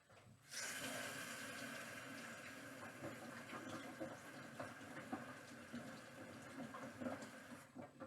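Tap water running steadily at close range as dye is rinsed off hands after fabric dyeing, a continuous rushing splash that starts abruptly and carries on alone.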